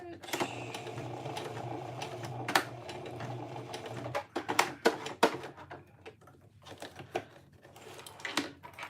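A sewing machine stitches cotton woven fabric for a phone sling in a low running whir, with sharp clicks and knocks from handling as the stitching eases off; a voice speaks briefly.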